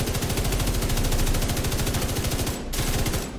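Sustained rapid automatic fire from a weapon in The Division 2, a loud, close, steady stream of shots with a brief pause before the firing resumes.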